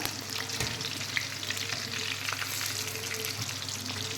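Chicken 65 pieces frying in hot oil, a steady dense sizzle with crackles and occasional pops, held at an even level from start to finish with no voices.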